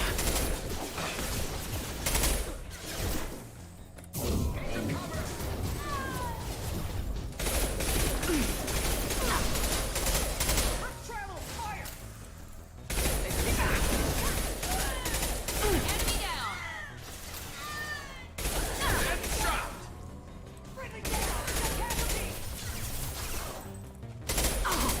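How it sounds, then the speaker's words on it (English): Dense bursts of gunfire from the Mass Effect Legendary Edition video game come in repeated volleys with short pauses between them, mixed with mechanical clatter and impacts and a voice talking over the action. "No, they're still shooting."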